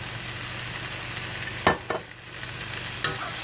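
Eggplant stir fry with oyster sauce stirred in a hot pan: a steady close sizzle carries a few short scraping stir strokes, two near the middle and one toward the end, with no talk.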